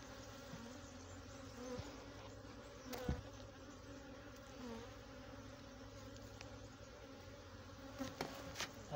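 Honey bees at an apiary hive in the Maghreb hum in a steady, dense drone, with individual bees buzzing past close by now and then, and no talk.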